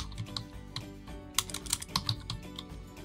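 Keys clatter on a computer keyboard while entering a search term, a short close run of uneven clicks over a low background hum.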